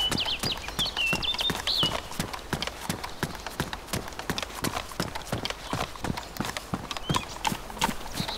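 Horse hooves trotting in the video game DayZ, a steady, even clip-clop rhythm with occasional snorts, close and continuous over a constant background hum.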